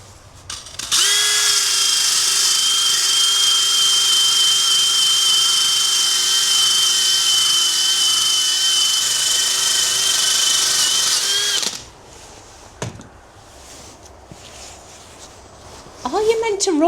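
A power drill fitted with a disc, used in place of an angle grinder while restoring a Victorian wash copper, whines loud and steady for about eleven seconds, then cuts out, leaving quiet clatter.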